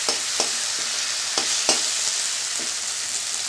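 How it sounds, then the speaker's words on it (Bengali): Spice masala with tomato and onion sizzles in a pan as it is sautéed, a steady close frying hiss broken by several sharp scraping stirs of a spoon. "টমাটোর থেকে একটু জল বেরোচ্ছে, পেঁয়াজের একটু রস, এতে মশলাটা কষানো হয়ে গেল।"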